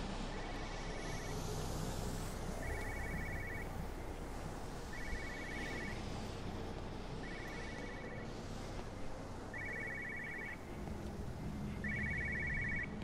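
A telephone rings in Everybody's Gone to the Rapture, six evenly spaced electronic ring bursts about two seconds apart over a steady hiss of outdoor ambience.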